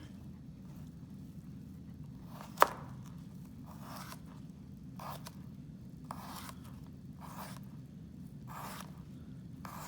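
A knife slicing through a cucumber with the claw grip, a series of soft, spaced swishing cuts with one sharper knock near the start, fairly quiet and without talk.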